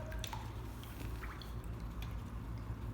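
A paintbrush being rinsed in water during acrylic painting, soft drips and small sloshing splashes scattered over a faint low hum, quiet and close.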